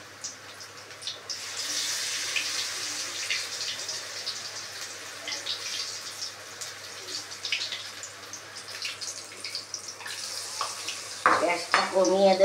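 Pumpkin flower fritters dipped in gram flour batter frying in hot oil, a steady, moderate sizzling crackle throughout, with a brief clatter of a utensil near the end.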